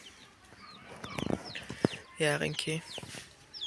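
Hens and chicks cluck in short bursts near a farmyard, with a voice speaking between the calls.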